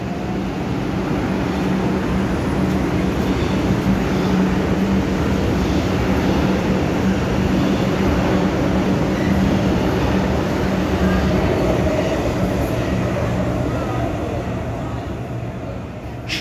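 Kolkata metro train at Girish Park station, a loud steady rumble and roar of the underground train running close by, with faint voices mixed in.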